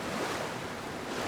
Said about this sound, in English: A blood waterfall. Very metal.